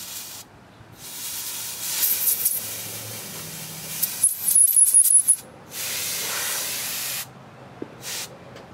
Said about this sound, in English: I'm going to take this can of compressed air, go through and blow out, try to get any loose debris out of the little holes.